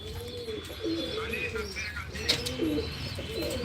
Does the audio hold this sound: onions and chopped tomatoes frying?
no